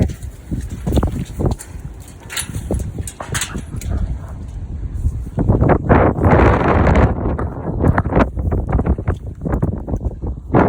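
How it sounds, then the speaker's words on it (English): Strong wind gusts hit the microphone outdoors in the rain at a muddy horse yard, coming as loud rumbling buffets that swell and fade, stronger toward the end, with faint rustling in between. "Look how windy."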